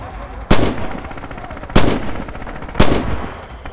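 Three heavy, powerful rifle shots from Red Orchestra 2, spaced about a second apart, each a sharp loud crack with a short rolling tail over a steady bed of battlefield noise.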